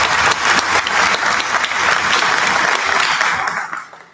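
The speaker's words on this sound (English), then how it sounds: "A round of applause for Rachel." Audience applause at a school orchestra concert, a dense steady wash of many hands clapping loudly for about four seconds before tapering off at the end.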